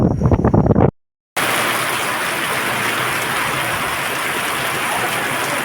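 Heavy rain pours in a dense, unbroken hiss after a brief cut to silence, loud and close with no voices.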